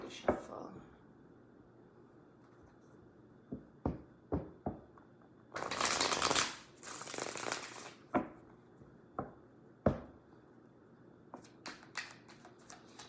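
Tarot cards being shuffled nearby in repeated crisp riffles and taps, with a longer dense burst of card flutter in the middle, set against quiet room tone.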